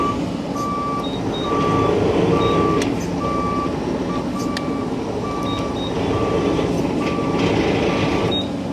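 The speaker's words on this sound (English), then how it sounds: "Does have travel alarm." A 2023 Bobcat E42R2 compact excavator's travel alarm beeps in a steady repeating rhythm of short tones over a continuous engine rumble, loud and close.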